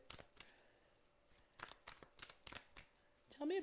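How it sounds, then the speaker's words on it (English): Tarot cards being shuffled by hand produce a run of sharp, papery riffles and flicks in short irregular bursts, close and moderately loud, ending with a brief louder rustle. "I've been just like shuffling like a mad woman."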